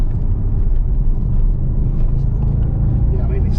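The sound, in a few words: Audi RS4 Quattro engine under light throttle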